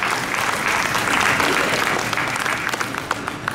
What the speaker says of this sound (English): You should give yourselves a really old round of applause.